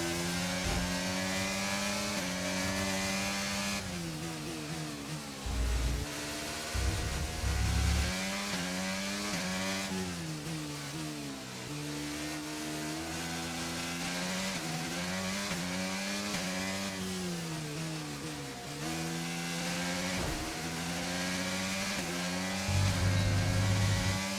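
An F1 race car engine screams in the F1 23 racing game, a loud sustained high whine rising and falling through gear changes and braking across a long lap.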